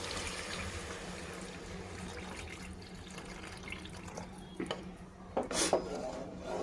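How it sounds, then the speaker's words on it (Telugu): Water pours and trickles into a pot of fried mutton for leg soup, close by and fairly quiet, ending with a few clinks and clatters of the pot. "ఇప్పుడు నీళ్ళు వేసుకుందాం దీంట్లోకి."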